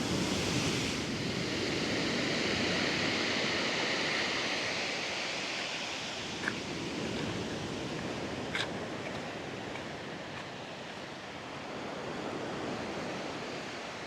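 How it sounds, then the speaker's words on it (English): Strong ocean surf rolls up a Puerto Vallarta beach after Hurricane Priscilla, a loud continuous roar of breaking and washing waves with wind buffeting the microphone, with no voices. "so those waves are coming all the way up"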